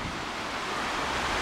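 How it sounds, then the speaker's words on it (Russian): Sea surf rolls in at Saint-Malo during a rising tide, a continuous broad wash of breaking waves with wind noise, loud and steady with no voices. "С каждым моментом прибоя все ближе и ближе к ним пододвигается вода"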